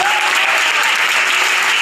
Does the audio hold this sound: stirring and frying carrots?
no